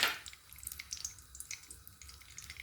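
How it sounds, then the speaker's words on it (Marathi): Mustard seeds crackle in hot oil with faint, scattered tiny pops and sizzles, quiet and close, with no voices. "मोहरी कडकडत आहे."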